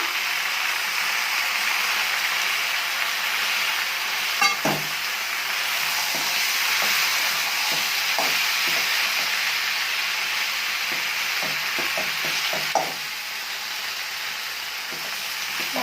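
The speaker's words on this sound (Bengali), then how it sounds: "আস্তে লতাগুলো ভেজে নিচ্ছি বন্ধুরা" Vegetable stems frying slowly in a pan with fish heads over a low gas flame, a continuous close sizzle and hiss with occasional scrapes and stirring clicks, no voices.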